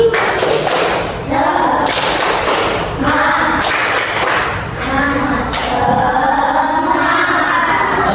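Schoolchildren in a classroom perform a rhythmic spirit clap, loud sharp claps in patterned bursts with group chanting and shouting alongside.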